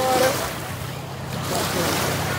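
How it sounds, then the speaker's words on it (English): Ocean waves wash onto a beach in a steady, broad roar with some wind noise on the microphone, at a moderate distance. "The waves are nice."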